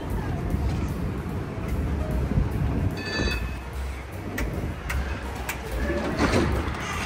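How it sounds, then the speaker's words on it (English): Interior of a very old Warsaw tram running on route 36, a continuous rumble and rattle of wheels and body with occasional clanks and squeals and voices in the background. "That was a ride on this very old Warsaw tram."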